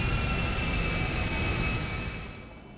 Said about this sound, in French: ce petit Concorde